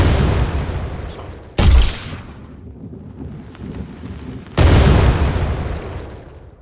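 A synthesized bomb explosion effect made in MetaCsound, two loud deep booms a few seconds apart, each hitting hard and then rumbling away into a long fading tail.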